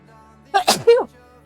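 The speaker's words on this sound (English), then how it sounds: "I have to sneeze." A single person's sneeze, a quick gasping build-up followed by a sharp burst, close and fairly loud against quiet game background sound during a hardcore survival game stream.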